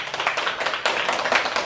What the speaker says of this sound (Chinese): 我们给里长鼓掌一下